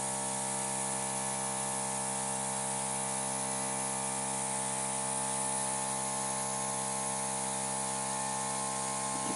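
An airbrush sprays acrylic paint in fine feathering strokes, a steady close hiss with a faint tonal whine running unbroken throughout.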